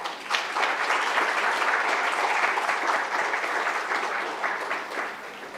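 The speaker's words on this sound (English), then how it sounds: "Give round of applause for her." A conference audience at a city resilience conclave gives a speaker a round of applause, a dense, even roar of many hands clapping that stays loud and steady for several seconds before easing slightly at the end.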